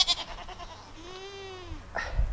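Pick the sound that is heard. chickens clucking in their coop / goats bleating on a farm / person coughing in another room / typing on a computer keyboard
goats bleating on a farm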